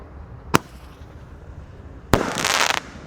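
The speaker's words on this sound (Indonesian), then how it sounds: "Menyalakan banyak sekali mercon dan petasan." Fireworks and firecrackers go off close by: a sharp bang, a pause, then a second loud bang followed by a roughly half-second burst of crackling. No one speaks.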